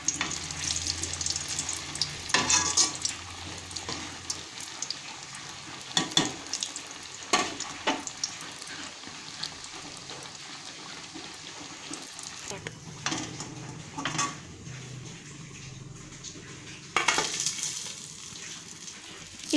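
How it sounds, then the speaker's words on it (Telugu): Onion kachoris fry in hot oil with a continuous close sizzle, punctuated by occasional louder stirring scrapes and clinks of a utensil against the pan. "ఇలా బాగా మనం ఫ్రై చేసుకోవాలి."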